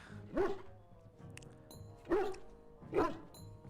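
Three separate barks from a dog in the role-playing game Dragon Age: Origins, spaced unevenly over a few seconds, each short and moderately loud against a soft in-game ambience.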